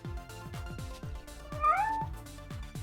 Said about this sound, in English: It's the fucking cat.